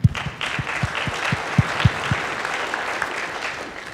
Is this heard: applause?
yes